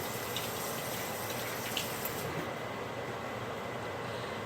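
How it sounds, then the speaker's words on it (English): Hands are rinsed under a running kitchen tap, a steady hiss of flowing water that thins out partway through as the stream is disturbed. "I'm going to rinse my hands off again."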